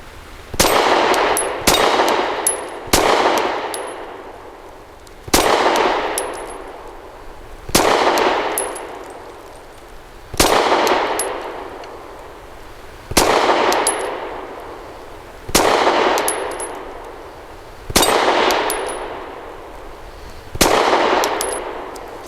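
A Zev OZ9C Hyper Comp 9mm pistol fires single shots at a moving steel target. Each sharp crack is followed by a ringing metallic clang, repeated about every two to three seconds, loud and close.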